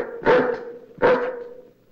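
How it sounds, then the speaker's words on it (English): A large hound barks twice, deep and loud, about a second apart, with a steady low hum or growl carrying through underneath and between the barks. "Hey, is that all one dog?"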